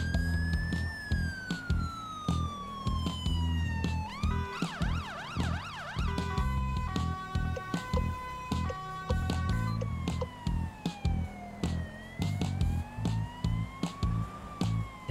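A white emergency van runs its siren in GTA V with the LSPDFR mod, a loud wailing tone sweeping up and down, then switching to a rapid yelp before returning to a slow wail, steady and close.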